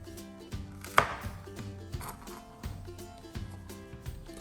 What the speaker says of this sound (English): let's cut those ends off